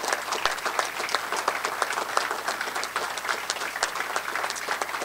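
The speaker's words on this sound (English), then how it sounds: "the kind of applause for what that standing applause for that vision" A standing audience applauds at a conference gathering, dense continuous clapping filling the room evenly for several seconds with no speech.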